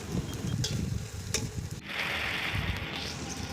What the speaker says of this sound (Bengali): পেঁয়াজটা লাল হওয়া পর্যন্ত ভেজে যাবো।